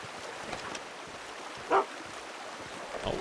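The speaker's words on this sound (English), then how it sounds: "Oh, bark. He's barking." A dog in the Red Dead Redemption game barks once, a short sharp bark in the middle, with another faint one near the end, over a steady backdrop of flowing water.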